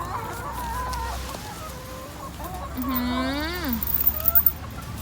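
Several laying hens cluck and squawk nearby on a rainy day, their calls rising and falling in a busy, overlapping chatter over a low background rumble.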